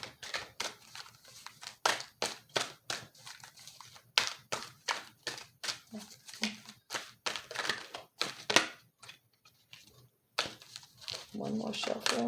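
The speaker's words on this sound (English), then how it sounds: "One more shuffle." Tarot cards are shuffled by hand in a long series of quick, crisp riffling and slapping bursts with short pauses between them, recorded up close and quiet.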